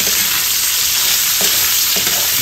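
Meat being stirred into sizzling red onions in a pan while cooking pinakbet, a loud continuous fry hiss with a couple of soft scraping stirs near the end.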